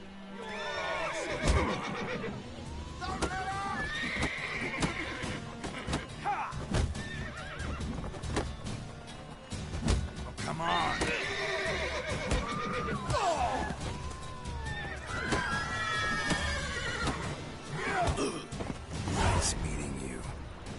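Horses whinny and neigh repeatedly amid clopping hooves, thuds and scuffle sounds in the video game The Witcher 3: Wild Hunt, with voices talking in the mix throughout.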